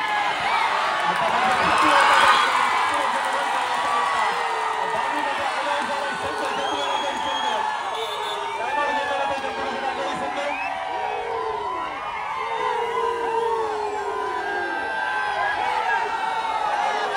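A crowd at an outdoor village kabaddi tournament cheers, whoops and claps loudly and continuously for the organizers, a dense wash of voices with a swell near the start and shouts rising throughout.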